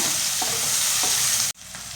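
Chopped onions frying and being mixed in a pan, a loud even sizzle with a couple of soft stirring scrapes, then an abrupt drop before the sizzle resumes more quietly.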